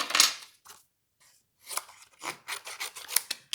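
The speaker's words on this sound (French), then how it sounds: "Donc là maintenant, il s'agit de faire la découpe." Stampin' Up scissors cutting paper give a series of short crisp snips and rasping slices, close and clear, with brief pauses between bursts of cutting.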